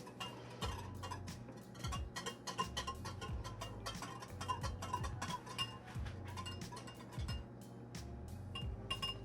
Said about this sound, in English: We're gonna gently whisk to combine it.